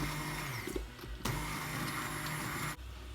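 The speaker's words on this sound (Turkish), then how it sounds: "O yüzden ben bu kısmını böyle blenderdan geçiriyorum." A blender whirs steadily and loudly blending cooked onions, its motor droning with brief dips and surges as the blades churn, with no talking.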